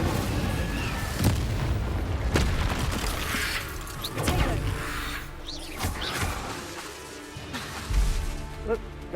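Incendio fire spell cast in the Hogwarts Legacy video game, several loud whooshing, booming magical impacts spread across the span amid ongoing combat noise.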